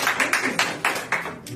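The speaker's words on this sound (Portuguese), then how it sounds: "Se assente aplaudindo ao Senhor." A church congregation claps together in worship, a series of fairly even, moderately loud claps with a slight room echo.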